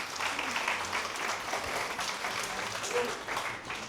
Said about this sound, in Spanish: Aplaude al Señor si deseas.